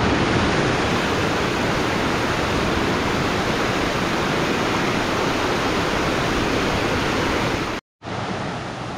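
A waterfall at Cachoeira da Barata in the Serra do Tepequém, Amazon, roars as a loud, dense, continuous rush of falling water, broken only by a brief cut near the end.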